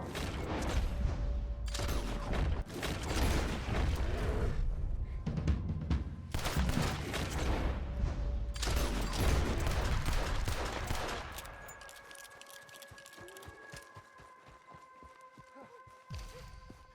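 Rapid gunfire in the Red Dead Redemption 2 video game, dense volleys of overlapping shots lasting about eleven seconds, then fading into scattered quieter pops under a sustained musical tone.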